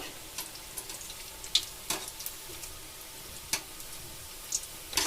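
Mandakki (puffed rice) curd vade frying in hot oil, a continuous close sizzle broken by sharp crackles and spits scattered through, moderately loud, with no talking.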